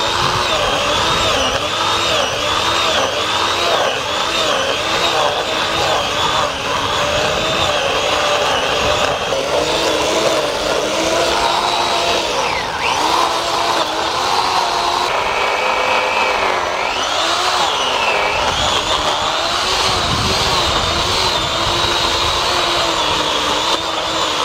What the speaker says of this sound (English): chainsaws were great for digging.